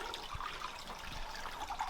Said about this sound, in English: Look, you see it's just a little trickle in there, which is what I wanted.